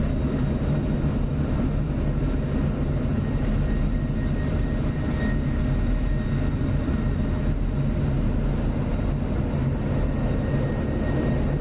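An F-16 Viper in the DCS flight simulator slows for landing with its gear coming down, filling the cockpit with a steady, unbroken jet engine drone at constant loudness throughout.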